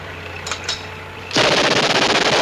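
Burst of sustained machine gun fire in a 1960s World War II combat drama, starting abruptly after a quiet moment and continuing as a loud, rapid, unbroken rattle.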